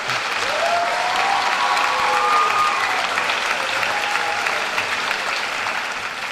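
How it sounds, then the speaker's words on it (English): A 2017 Cumberland County High School graduation audience gives sustained applause, a broad, even roar of many clapping hands, with faint cheering voices rising briefly in the first half. "You give them one more round of applause."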